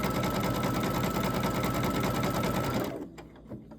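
An embroidery machine stitches a hand towel with a fast, steady mechanical rattle up close, then winds down and stops, leaving a few faint clicks.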